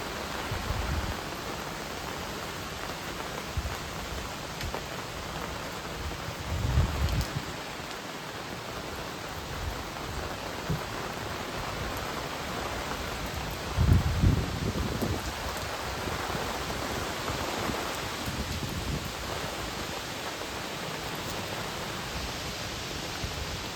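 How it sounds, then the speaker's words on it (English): Wind sweeping steadily through trees on a grey morning before rain, a constant broadband rush with a couple of stronger gusts rising out of it, no voices. "Here comes the winds. They're picking up."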